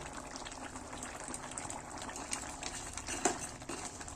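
Chettinad crab masala gravy simmering in a pan, a steady low bubbling and gurgling texture with a brief louder pop near the end, no voices.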